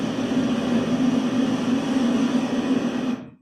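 A train passing on rails with a wheel defect, a loud continuous rolling roar with a steady low hum that fades out abruptly at the end, with no talk.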